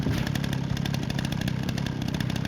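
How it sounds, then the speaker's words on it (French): A chainsaw engine in a video game drones and rattles steadily at close range, a continuous buzzing rev with no voices. "c'est jouissif d'avoir une tronçonneuse"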